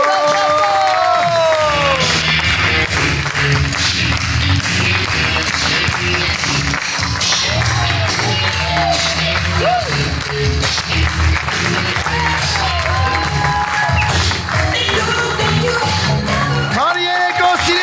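A studio audience at a comedy show applauds and cheers to welcome a comedian onstage, with dense sustained clapping and scattered whoops filling the whole stretch.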